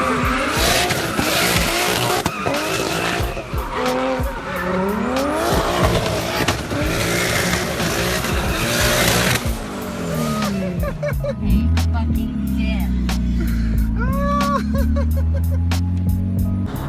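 A car with a big single turbo, an N54 engine, revs and accelerates hard, its pitch sweeping upward again and again with tire squeal and skidding mixed in, loud and close, then a lower drone settles in near the end.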